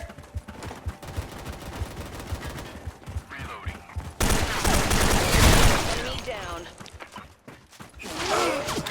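Rapid bursts of gunfire from the video game Special Force 2 crackle in repeated volleys, growing denser and louder midway, while a player's voice talks over the shooting.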